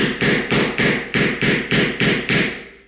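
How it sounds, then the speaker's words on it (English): Seven sharp metallic taps of a hammer on the back of a chisel at a door latch, at a steady rhythm, close and crisp, each a quick strike with a short ring, nothing else around them. "take a hammer and just tap on the back."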